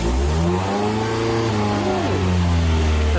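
A Toyota AE86 with a Martelius header and Fujitsubo exhaust idles loudly and close with a deep, steady drone, rising briefly in a short rev midway before settling back.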